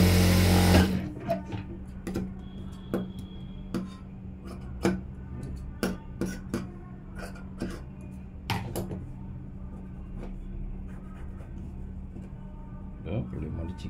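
Near the edge of a blouse, a sewing machine runs in short bursts with sharp ticks and clicks between quiet stretches, heard up close while the sewer handles the fabric.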